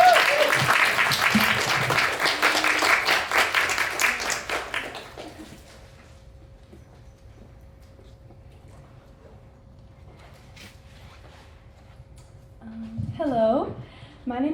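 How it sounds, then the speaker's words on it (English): An audience at a winter art showcase applauds a poetry speaker with loud, dense clapping that fades after a few seconds, followed by a quiet room and then a voice beginning to speak. "So if you guys can give her a round of applause,"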